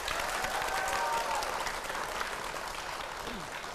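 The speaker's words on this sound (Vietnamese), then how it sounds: "Vỗ tay đi quý vị." A studio audience applauds steadily at a Vietnamese television dating show, a dense, even wash of clapping that continues throughout without letting up.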